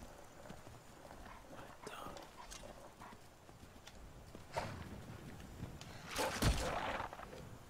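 A horse in modded Skyrim Special Edition clops along with faint, steady hoofbeats under quiet background sound, with a few louder thumps near the end.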